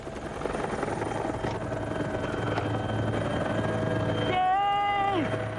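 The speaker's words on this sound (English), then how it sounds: "Gandy with holding the hover over a moving vessel" A rescue helicopter holds a hover over a moving vessel in rough water, its steady rotor thump and turbine whine loud and continuous, with a rising then falling tonal whine near the end.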